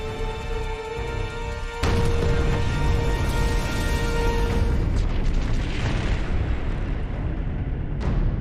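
A sound effect of the 1986 Chernobyl reactor explosion: a steady hum and tonal drone breaks into a loud, sustained rumbling blast that roars on for several seconds.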